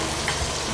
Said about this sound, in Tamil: நல்லா கருகாமல் நல்லா அப்படியே கிளறிக்கிட்டே இருங்க.